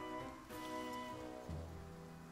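Soft, steady rainfall in The Legend of Zelda: Breath of the Wild, faint and continuous under low game music, with no talking.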